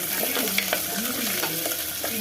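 Garlic, small shallots and curry leaves sizzle in a pan while being stirred, a steady frying hiss with repeated scraping strokes of a spoon, close and fairly loud with no voices.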